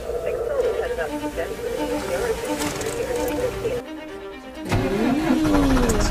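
A PistenBully snow vehicle's engine runs in Antarctica, giving a steady mid-pitched drone that drops briefly and then returns louder with a rising note.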